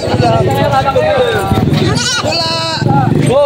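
Goat bleating at a livestock market in Padre Garcia, Batangas, with several wavering bleats rising through loud, continuous talk and crowd chatter.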